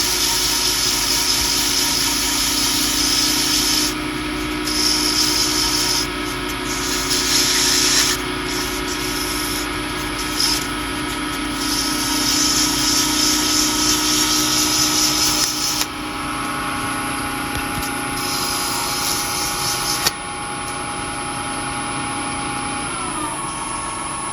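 A wood lathe spins steadily with a continuous motor drone while a turned two-piece top is burnished and polished, with a hissing rub of material against the spinning wood that shifts and steps down in level partway through, no talking.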